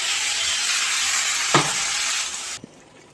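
Spices fried with tomato in a pan make a loud, even sizzle with one sharp spatula knock midway, before the frying noise drops away abruptly near the end.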